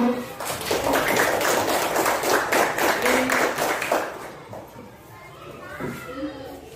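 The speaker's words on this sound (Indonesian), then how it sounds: "Oke, tepuk tangan untuk kelompok A." A class of children claps for a group during a lesson, a brief burst of rhythmic clapping with children's voices mixed in, fading out as the teacher's talk resumes.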